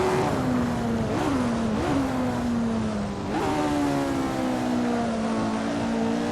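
Lotus 49 race car in the video game Assetto Corsa on a flying lap, a loud, close engine howl holding high revs with a few quick dips and rises at gear changes.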